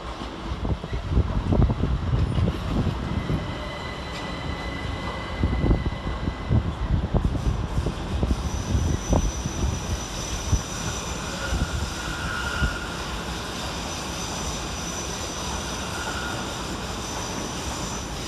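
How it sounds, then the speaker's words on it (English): A Great Western Railway Class 387 electric train, coupled as two units, rolls into the London Paddington terminus with a loud, steady rumble of wheels on rails, clattering joints and a high wheel squeal, fairly close and continuous. "Arriving to terminate with the Great Western Railway service off of Newbury is 387 147 and 387"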